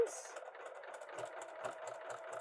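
A sewing machine top-stitches pajamas about one eighth of an inch from the edge, giving a close, steady mechanical whir with rapid rhythmic needle ticking.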